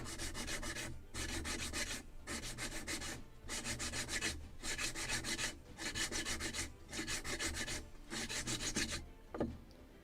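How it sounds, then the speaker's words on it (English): A sanding block scrubs back and forth along the wooden end of a model gunboat kit part, about eight rhythmic strokes with short pauses between, close and soft. "I will sand the end because it's getting thicker and thicker. Faster with block."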